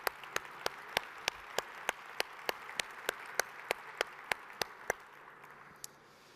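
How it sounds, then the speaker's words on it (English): An audience at a conference session applauds with slow, steady, evenly spaced claps that sound faint and sparse, roughly three per second, before tapering off. "Can we give them a round of applause as well?"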